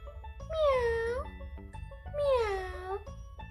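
Two drawn-out imitation cat meows sung by a voice in a children's farm-animal lesson, each a rising-then-falling tonal call, close and clear over a faint musical backing.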